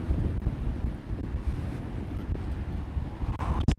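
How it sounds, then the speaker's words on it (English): Wind buffets an outdoor microphone in a steady low rumble, roaring close and loud with gusty swells throughout. "It's a little windy, wow."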